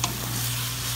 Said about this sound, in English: we're just gonna kinda throw that around, give it a stir.